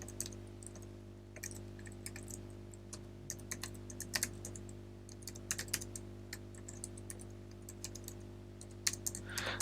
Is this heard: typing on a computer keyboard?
yes